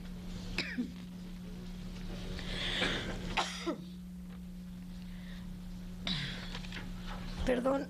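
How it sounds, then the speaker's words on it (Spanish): A person coughs and clears their throat several times in short bursts, close to the microphone, with a steady electrical hum underneath, during a committee meeting. "tengo mucha tos"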